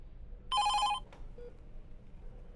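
A telephone bell rings once in a short half-second electronic burst, close and clear over a quiet room, followed by a faint click.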